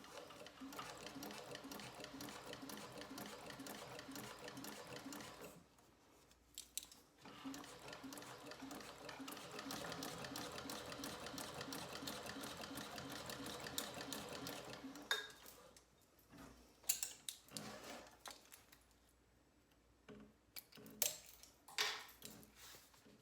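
A sewing machine runs top stitching with a 1/8 inch foot in long steady bursts, its fast rhythmic needle clatter near and prominent, stopping for short pauses and ending in brief, uneven stop-start runs.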